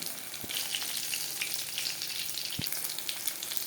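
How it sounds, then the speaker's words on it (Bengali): Prawn vegetable pakoras crackle and hiss steadily in hot frying oil, close and continuous, with two brief knocks of a utensil against the pan. "উল্টে পাল্টে ক্রিস্পি করে ভাজা হয়ে গেছে"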